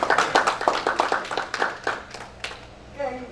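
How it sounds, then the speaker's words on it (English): Church congregation applause for a performer, a run of distinct hand claps at an uneven rhythm that thins and fades out, with voices talking in the room near the end. "Let's give him another round of applause."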